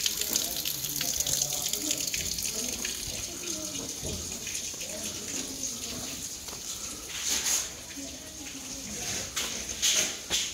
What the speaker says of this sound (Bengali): এটা হচ্ছে জলের কল, সেটাকেও নীল রঙের করা হয়েছে।